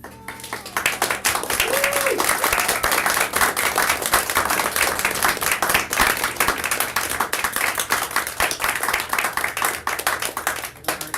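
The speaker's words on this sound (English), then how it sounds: "And then Laura, one more good applause." An audience at a virtual youth creators' showcase breaks into sustained, dense clapping that fills the space with a steady, lively roar of hands for about ten seconds.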